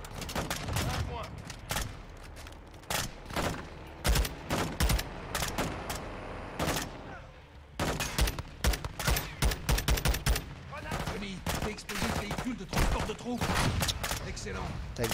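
Suppressive gunfire in the video game Modern Warfare 2 comes as loud, dense bursts of rapid automatic shots, repeated again and again with only brief gaps.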